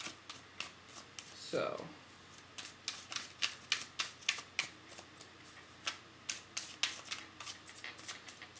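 A deck of tarot cards is shuffled by hand in a steady run of crisp, close flicks and riffles, with a brief spoken word near the start.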